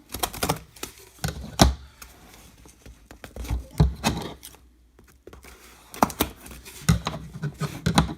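A big box of graded cards is opened, giving a run of sharp, close clicks, taps and cardboard rustles in irregular bursts with short quiet gaps between them.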